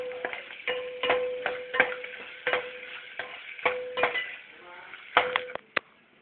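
Lengthwise-split ingredients for lime rice frying in a pan, with a spoon clattering and scraping against the metal in a quick irregular rhythm over a soft sizzle.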